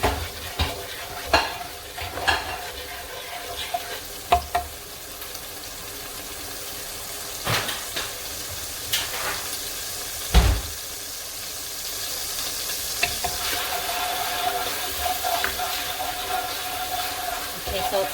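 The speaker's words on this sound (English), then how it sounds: "I'm going to go ahead and saute these" Chayote squash with shallots and garlic sautéing in a pan, a soft steady sizzle broken by occasional sharp clanks and scrapes of stirring, with a louder hiss building toward the end.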